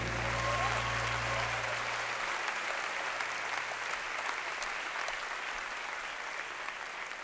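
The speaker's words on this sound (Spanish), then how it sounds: "Un aplauso para Daniel." Sustained applause from a large concert audience fills the room, loud and steady throughout, with fading low musical tones underneath at the start.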